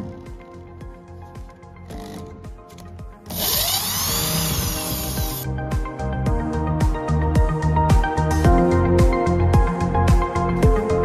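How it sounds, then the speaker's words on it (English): A handheld power drill opens a wooden packing crate holding a laser welding machine, giving one loud, steady, high whining burst of about two seconds over continuous background music. "For opening this package, we need help from this handheld drill."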